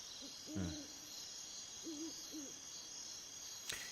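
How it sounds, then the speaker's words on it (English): An owl-like bird hoots at night outdoors, a few soft, separate calls spaced apart over a constant background of crickets and insects, followed by a brief sharp click at the end. "Yeah, I think that's another bird."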